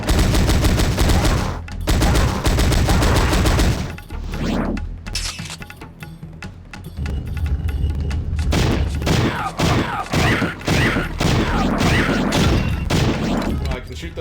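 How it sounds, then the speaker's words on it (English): Powerslave / Exhumed on the Sega Saturn: loud, dense gunfire shooting statues, a sustained barrage with a brief lull, then further rapid shots and crashing impacts, all close and forceful. "I can shoot those statues."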